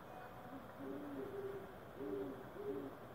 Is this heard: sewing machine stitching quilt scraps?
no